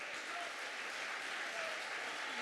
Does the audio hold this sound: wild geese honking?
no